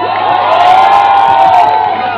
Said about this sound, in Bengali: এই যে ডিরেক্টর, এটা ওনার জন্য জোড়া হাততালি।